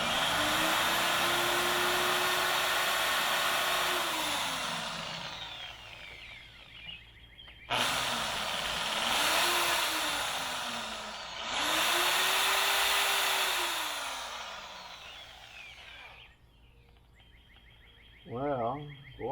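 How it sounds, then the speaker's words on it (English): A small power drill whines steadily into a clogged grease pin on a John Deere 310D backhoe, running in several sustained bursts that rise and fall in pitch with brief pauses, close and fairly loud outdoors. "You guys can watch me drill it."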